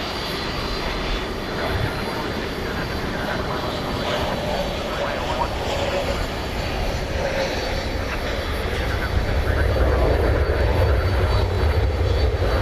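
A Frontier Airlines Airbus A321neo landing at night at Dallas Fort Worth airport, a steady broad engine roar that builds louder toward the end, heard alone without talk.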